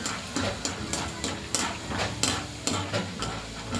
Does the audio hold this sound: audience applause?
no